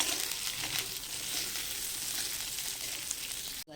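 Chickpea chaat with potato sizzles and sautés in a pan while being stirred, a soft continuous frying hiss at moderate level with no talk, ending in a short knock.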